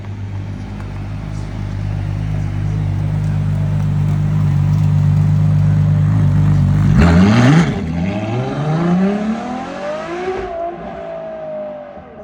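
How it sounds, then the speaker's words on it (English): A Ferrari LaFerrari supercar with a black painted roof roars past in Vancouver, a loud steady engine drone building for several seconds before a sharp rising rev, then a falling pitch as it pulls away into the distance. "Here comes a LaFerrari."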